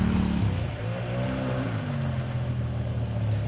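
A Polaris 850 XP ATV rides along trails, its engine a steady droning hum with a gentle rise and fall in pitch, heard up close and continuous.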